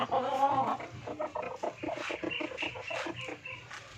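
Several chickens cluck and chatter close by in a busy, overlapping flurry of short calls, with no talking.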